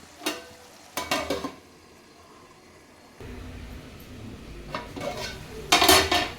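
Mutton keema curry stirred in a pan with oil separating, loud spoon-on-metal scraping and clanking in bursts over a low, steady sizzle that grows louder midway.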